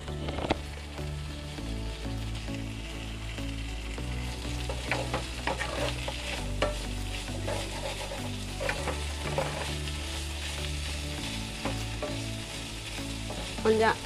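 Kadai chicken stirred and fried in a pan over raised heat, with a constant dense sizzle and repeated scraping stirs of the spoon, close and steady, no talking.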